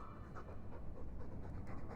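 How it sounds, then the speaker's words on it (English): A video game dog pants heavily in rapid, rhythmic breaths, near and steady throughout, alone without any voices. "Dog just trying to breathe."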